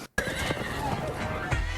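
A pack horse neighs in a video game, a long whinny layered under game noise and background chatter during online play, with a soft thud near the end.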